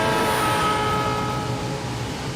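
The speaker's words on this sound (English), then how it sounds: "you hear the pitch of the whistle get lower and lower in frequency" A train moving away along the tracks, its whistle tones sustained and steady over a constant low rumble of wheels, with no voices.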